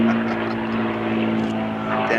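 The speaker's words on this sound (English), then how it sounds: "if I could shoot that plane down, yeah, you're right." A propeller airplane drones overhead at an outdoor English longbow shooting session, a steady loud engine hum with strong low tones lasting throughout, with a voice talking over it.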